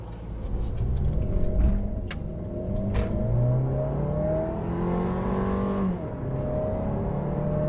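A 2020 Mercedes-Benz A220 4Matic's 188-horsepower turbocharged engine accelerates steadily, its pitch climbing through gears with a brief shift dip, heard from inside the cabin with no talk.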